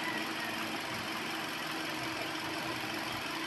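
A Hyundai Accent engine idles during a brake fluid and coolant flush. The low, steady hum runs unchanged for several seconds, quiet and without talk.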